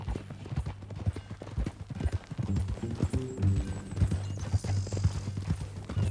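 Horse hooves clip-clop in a steady, close rhythm on a Red Dead Redemption 2 trail, with a brief whinny and quiet character dialogue layered over the walking.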